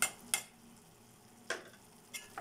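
Curry is stirred in a pan, with four or five sharp scraping clinks of a spoon spaced irregularly over a soft, continuous sizzle.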